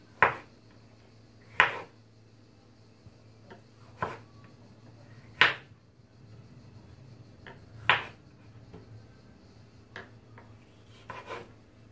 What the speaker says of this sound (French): je découpe mes oreillons d'abricot en 4 pour me faciliter du coup la cuisson